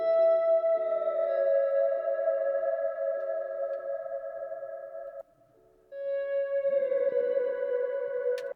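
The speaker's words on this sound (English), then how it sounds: "let me show you the guitar slides on its own" Sustained reversed guitar tones swell and slide in pitch, washed in echo, chorus and reverb, with a short gap before the effected tone returns.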